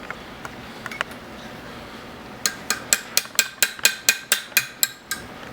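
A light hammer taps a rivet on a C4 rail during installation: about a dozen crisp, evenly spaced metallic taps, close and fairly loud, following a few scattered softer knocks.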